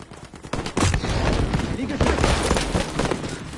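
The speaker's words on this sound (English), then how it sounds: "That flag cannon is not messing around, is it?" A flag cannon fires in a video game, sending a rapid run of heavy, booming blasts that stay loud and close, with a voice talking over them.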